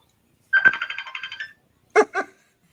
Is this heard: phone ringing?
yes